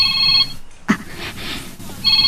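Mobile phone ringtone in an Ilocano drama scene, a bright repeating electronic ring at the start that pauses for a moment of rustling and a thud, then resumes at the end.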